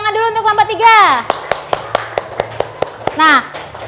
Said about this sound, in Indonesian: Kita beri tepuk tangan dulu untuk kelompok 3.